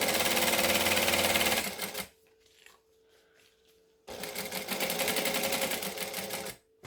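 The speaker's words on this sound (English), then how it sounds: "So we just want to stitch 1/8 of an inch along the edge, lining it up." A sewing machine stitches along a fabric edge, two close bursts of rapid, even mechanical needle chatter separated by a quiet pause with a faint motor hum, then stopping again.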